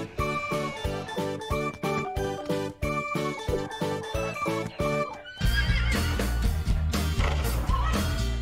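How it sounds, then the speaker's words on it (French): A farm horse whinnies loudly amid jingling tinkles and hoof clip-clops. The sounds come with bright musical tones, and the neigh swells into a long, dense burst in the second half. "Ça, c'est un cheval."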